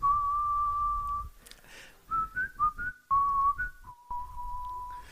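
A man whistles a short tune alone, clear and close, with sustained and bouncing notes broken by brief pauses and a few quiet breaths.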